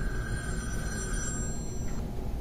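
A telephone rings in a 2022 horror film, a faint high electronic trill sustained for about two seconds over a low background rumble, with no talking.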